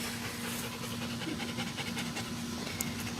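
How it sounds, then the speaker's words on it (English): A puppy that has just vomited pants rapidly and steadily, close by, with a low steady hum in the background. "Oh no, my dog just threw up."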